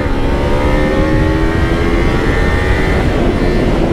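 A motorcycle with worn, shaky tyres revs hard at full throttle on a road near Makum bypass in Tinsukia, with a loud, close engine drone rising steadily in pitch without a break.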